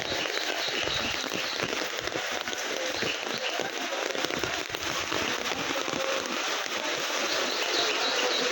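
Steady heavy rain falls at Tarakeswar temple, a dense broadband hiss with scattered spattering drops on wet surfaces, continuous and fairly loud throughout with no talk.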